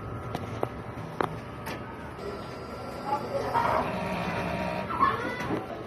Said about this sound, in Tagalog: At ganito naman po mag-head clean.